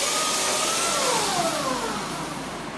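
A forklift engine runs steadily just after starting, a close mechanical whir with a rising, shifting tone that settles into an even drone.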